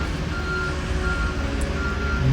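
A truck clearing ice in a rainy spot sends out steady reversing beeps over a loud, constant engine rumble, heard at moderate distance with no one talking.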